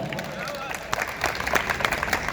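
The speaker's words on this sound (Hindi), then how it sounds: "जोरदार तालियां" A crowd at a Hindi comedy poetry gathering breaks into applause, clapping growing denser and livelier over a couple of seconds, with some voices mixed in.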